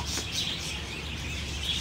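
Pet parakeets chirping indoors, with brief high twittering calls at the start and end over a steady background hiss and low hum.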